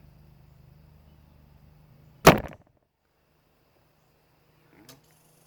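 A bow shooting an arrow tipped with field points, one sharp, loud snap and thwack of the release followed by a short decaying hum, then a faint distant impact a few seconds later over a quiet outdoor background.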